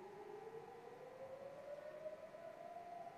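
An air-raid siren wails over Tel Aviv at night, a single rising tone sliding slowly upward and sustained, steady and moderately distant, with no voices.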